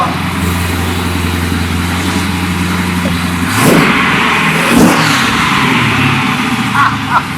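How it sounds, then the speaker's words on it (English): Engine-swapped Mazda Miata revving at a car shop, a loud rough engine note that rises in a couple of throttle blips over a steady idle rumble. "Well, Jim, that certainly doesn't sound like the Mazda Miatas that I have heard cruising around"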